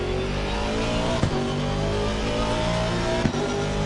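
Race cars at speed at Donington Park during a two-hour endurance race, with a Lamborghini closing from behind: a loud continuous engine roar from on board, broken by two short gear-change blips, and no talk.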